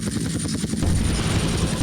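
Steady rotor chop and engine roar of a game helicopter, loud and continuous, with a rapid pulsing beat in the first half.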